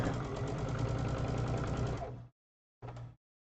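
A sewing machine runs steadily, stitching the sashing on a Star Cakes quilt. The motor whirs at full speed for about two seconds, stops, then gives one short burst a moment later.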